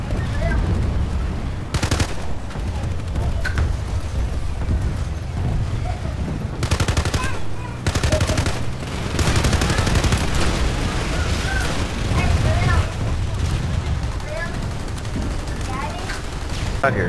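Video-game gunfire during a multiplayer op night on the Waterson map, with repeated bursts of automatic fire and sharp shots scattered throughout, some close and some distant, under intermittent talk from players.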